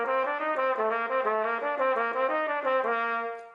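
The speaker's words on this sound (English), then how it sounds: "say like the Arbin's book for trumpet or the Clark exercises" A trumpet plays a Clarke technical exercise, a steady stream of quick legato notes moving up and down in a smooth rhythmic pattern, close and clear with no talking.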